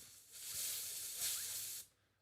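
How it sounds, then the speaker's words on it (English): A can of compressed air fires a short, loud hiss through a tiny nozzle onto fidget spinner bearings, one burst of about a second and a half that stops sharply. "this is why the compressed air is good, because it's got this tiny little nozzle"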